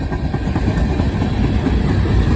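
A CSX freight train rolls past close by in Glendale, Ohio, a loud continuous rumble with steady rattling and clacking of cars over the rails.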